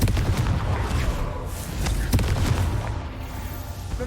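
Confringo fire spell explosion in the video game Hogwarts Legacy, a dense, booming, crackling blast with low rumble and a few sharp pops, loud and continuous over a few seconds.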